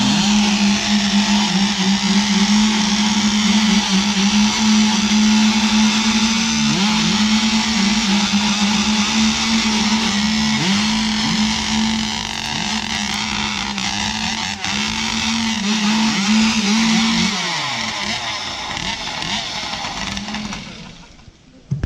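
Modified Stihl 441 chainsaws fitted with big exhaust pipes warm up at a maple festival competition in Shapleigh, Maine. They make a loud, continuous, buzzing engine drone for about seventeen seconds, then trail off.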